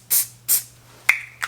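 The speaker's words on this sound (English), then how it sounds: "I'm going to spray a little activator, just because I need to do this quicker, just on the top here." Short hissing bursts of glue activator sprayed onto the top of a woodturned Christmas snowman before its hat is glued on, two quick puffs followed by two sharper clicks, close and alone with no talk.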